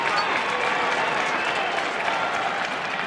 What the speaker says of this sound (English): Crowd appreciating the defense of Syracuse there.